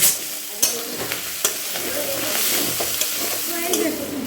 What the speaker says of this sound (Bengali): ভাজা কত সুন্দরভাবে ভাজা হয়ে গেছে দেখো